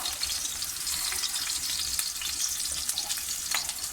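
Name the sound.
minced meat fingers frying in oil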